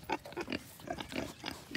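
Berkshire-cross breeding pigs grunt in short, repeated bursts at close range, several animals overlapping in a steady rhythm with no talk.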